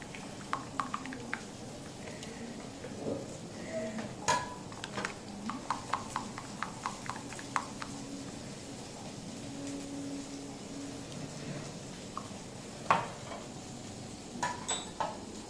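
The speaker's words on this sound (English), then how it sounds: "I like whisking it properly till the mayo and oil, you know, they combine" Mayonnaise and oil being whisked together in a bowl for a chicken burger, heard as scattered light clicks and taps of the whisk against the bowl, irregular and fairly quiet over a low background hum.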